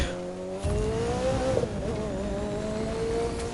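Rally raid spec Mazda MX-5 Roadster in the racing video game The Crew 2, engine droning steadily at close range while the car brakes and slides, with a rising and wavering whine and tire noise throughout.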